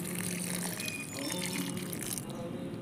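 Water poured from a bottle onto a potted plant, worked around the pot's rim, gives a steady close splashing trickle throughout.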